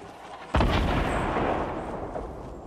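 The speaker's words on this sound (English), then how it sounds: "somebody's got one of those remote control rockets pop." Remote-control rocket explosion in a battle royale video game: one sudden loud blast followed by a long rumbling roar that slowly fades, no voices.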